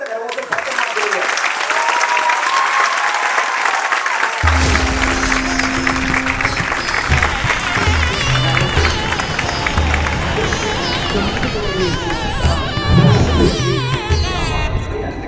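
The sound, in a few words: audience applauding loudly at a Tamil event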